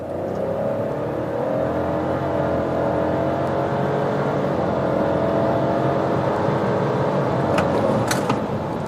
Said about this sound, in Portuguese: vamos estolar aqui o carro novamente e você vê que patina um pouquinho a roda